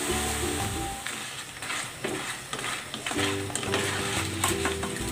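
Saba bananas fry in hot oil with a steady, close sizzle and bubbling crackle that runs throughout, without any talking.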